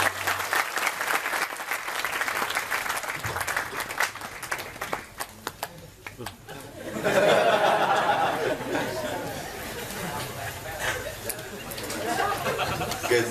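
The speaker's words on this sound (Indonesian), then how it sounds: "tepuk tangan untuk beliau" Applause from a large audience at an Islamic religious gathering with a well-known preacher, steady and dense throughout, with some crowd chatter and scattered voices rising over the clapping in the second half.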